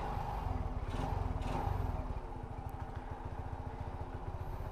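A Honda Astrea motorcycle engine idles steadily with a fast, even putter, close and loud, with no voices.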